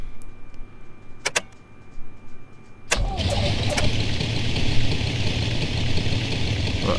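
A simulated Piper Arrow III piston engine in X-Plane 11 cranks after a few faint clicks, catches abruptly and settles into a steady, close, rumbling idle.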